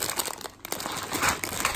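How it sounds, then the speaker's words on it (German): Small Smarties candy packets crinkling as they are emptied, with a continuous close rustle of thin packaging and brief crisp tearing-like bursts, no speech. "Ihr lädt die ganze Tüte aus und macht die einzelnen Smartie-Packungen leer"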